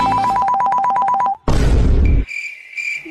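A phone ringing in an Odia comedy skit, a repeating electronic ringtone with regular pulsed beeps, loud and close, followed by a burst of noisy clatter and then a sustained high tone.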